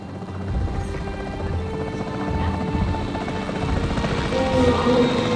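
A capture team helicopter in the Jurassic World Evolution 3 video game gives a steady, loud rotor drone throughout, with a low rumble and no speech.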